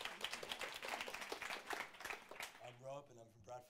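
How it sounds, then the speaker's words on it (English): Studio audience clapping for game show contestants, steady dense applause for a few seconds that fades out as a voice starts speaking over it. "Round of applause."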